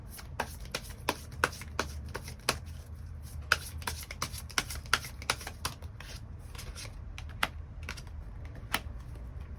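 Tarot cards shuffled and drawn at a reading table, a run of sharp, irregular flicks and taps against a faint low hum, close and fairly quiet.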